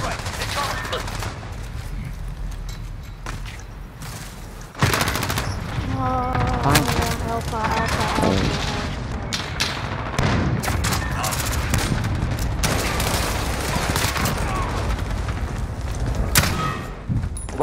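Cluster strike explosions and gunfire in a team bomb-defusal shooter video game: loud bursts of rapid automatic fire and sharp blasts crowd together, with a heavy thump partway through and a game voice speaking over the chaos.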